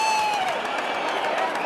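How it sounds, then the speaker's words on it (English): A cricket crowd at a CCL 2025 match cheers and applauds after a couple of runs, a dense, steady roar of distant voices and claps filling the short moment without a break. "Some cheer in the crowd."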